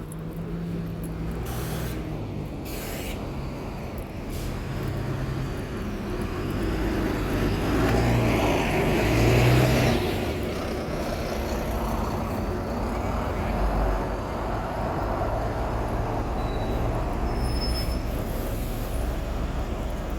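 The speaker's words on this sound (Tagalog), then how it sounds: "Ingay kasi ng bus." Bus and street traffic on a busy road in Central, Hong Kong, a steady loud roar of engines and passing vehicles that swells midway, with faint voices in the background.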